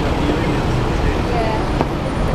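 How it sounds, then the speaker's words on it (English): Steady road traffic beside Hyde Park in London, a continuous broadband rumble of passing cars, cabs and buses at moderate distance with no clear individual pass-bys. "There's traffic anyway."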